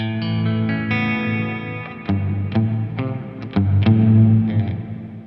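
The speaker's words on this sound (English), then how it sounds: "you'll hear that lower octave come through even stronger" An electric guitar through a Walrus Audio SLÖTVÅ reverb pedal, notes ringing out with a thick, lower-octave undertone and a washy reverb tail, played alone.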